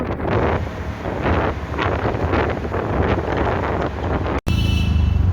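Strong wind buffets the microphone in loud, rumbling gusts, with a constant roar of morning traffic near Cubbon Park, Bangalore, underneath; no one speaks.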